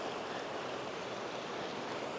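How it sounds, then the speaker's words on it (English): Waterfalls near a trail campsite on the John Muir Trail send up a steady, broad roar of rushing water that is constant and moderately distant, with no voices. "Nice couple lovely waterfalls."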